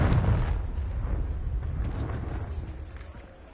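A loud, booming fiery explosion from the Confringo spell in Hogwarts Legacy hits hard at once, then rumbles and fades over several seconds.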